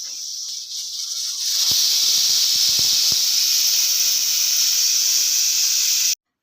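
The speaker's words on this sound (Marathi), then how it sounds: "आता दोन शिट्या झालेल्या आहेत" A pressure cooker holding sabudana and potato for papad chips lets out a loud, steady whistling hiss of escaping steam that runs unbroken for about five seconds and then stops abruptly, with no voices.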